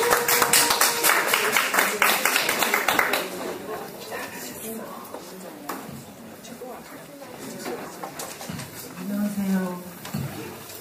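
Applause from a lecture audience as the second group's presenter comes forward, dense clapping for about three seconds before fading under speech.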